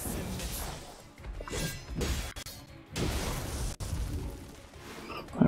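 Cloud's Cross Slash attack in Final Fantasy 7: Ever Crisis: a series of loud slashing whooshes and crashing impacts in quick succession, with sharp cut-offs between strikes and a final hit at the end.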